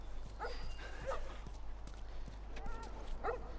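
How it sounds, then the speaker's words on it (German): Dogs bark in the video game The Last of Us, a few short distant barks spaced over a steady low hum, with a voice briefly heard. "Hunde, wo seid ihr?"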